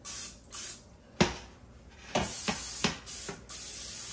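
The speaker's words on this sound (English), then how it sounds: "We're going to spray." Several short hissing bursts of aerosol cooking spray into a baking pan, one longer blast followed by quicker spurts, close and loud, with brief pauses between.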